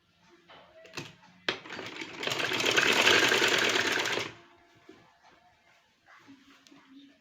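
A sewing machine stitches a capri trouser in one sustained burst of a few seconds, bracketed by quieter handling clicks and a faint dog whimper nearby.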